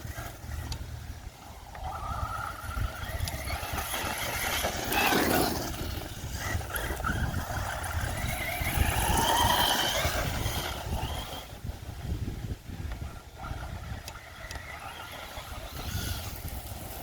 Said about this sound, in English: I think we might got the slipper clutch slipping a little bit.